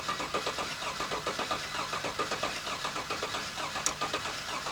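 Car engine cranking with the valve cover removed, in a misfire diagnosis where one cylinder's rocker arm does not move; a steady, rapid rhythmic chugging of the starter turning the engine over, fairly loud and continuous without any voices.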